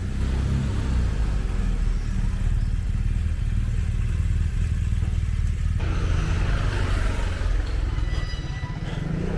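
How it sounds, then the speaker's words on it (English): Scooters zipping through the narrow town streets of Santa Margherita Ligure, Italy: a loud, continuous close engine rumble and buzz of passing motor traffic, with light clatter. "Zipping round on the scooters."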